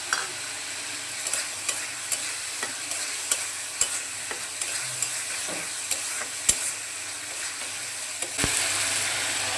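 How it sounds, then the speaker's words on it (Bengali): Jackfruit seeds frying and being stirred in hot spiced oil in a Bengali home kitchen, a steady close sizzle broken by repeated sharp scrapes and clicks of the spatula against the pan. "প্রথমে দিয়ে দিচ্ছি কাঁঠালের বীজগুলো"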